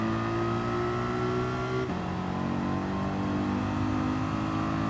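In Gran Turismo 7, a Mercedes McLaren SLR '09 engine is held at throttle, giving a loud, sustained, close-up howl that drops in pitch partway through and then keeps pulling.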